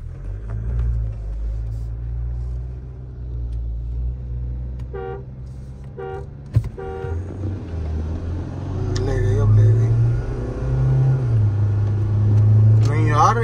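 A Mahindra Scorpio and a tuned Toyota Fortuner accelerate hard in a drag race, heard as a steady low engine rumble that swells toward the end, with a brief horn toot and people talking over it.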